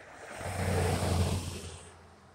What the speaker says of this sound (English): Still hear the Camaro.